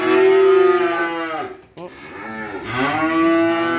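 Cattle at a crowded Vietnamese cattle farm low loudly and close by, two long drawn-out moos separated by a brief pause, with a faint voice in the background.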